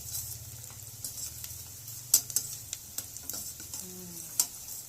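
Onions and green chillies frying in a pan while cooking goat head sherwa, a soft continuous sizzle with occasional sharp ticks and clinks of stirring.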